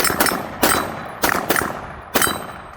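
CZ TSO pistol fired during a tiebreaker round of a shooting match: about five sharp, loud shots at an uneven pace, each followed by a ringing metallic clang.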